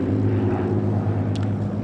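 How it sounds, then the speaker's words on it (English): Spitfire and Hurricane propeller fighters of the Battle of Britain Memorial Flight fly over a grass airfield at the Goodwood Revival, a steady loud engine drone filling the air throughout. "Spitfires and Hurricane. And they're, I think, going to land here"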